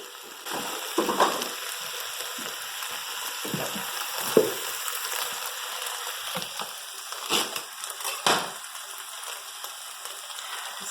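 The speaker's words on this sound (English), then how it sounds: "now let me warm my tortillas" Tortillas warm in a hot pan, giving a soft steady sizzle with occasional scrapes and crackles as they are moved and flipped, close and alone.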